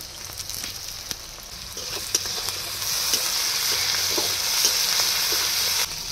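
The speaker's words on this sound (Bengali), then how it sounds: "পেঁয়াজ কুচি দিয়ে পেঁয়াজগুলো লাল লাল করে ভেজে নেব। দিয়ে দেবো থেতো করা রসুন" Chopped onions and crushed garlic frying in hot oil in a pan with whole spices, a steady close sizzle that swells slightly partway through, with occasional stirring clicks and no talking.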